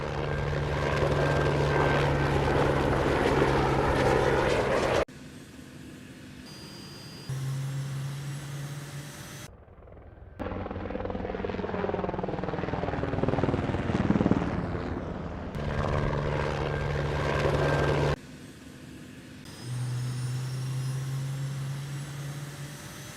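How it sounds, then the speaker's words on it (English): Helicopter rotor thumping and engine whine from sound design library effects, shifting between several different recordings, loud and steady with brief quieter gaps. "Actually, I quite like both of those helicopter sounds."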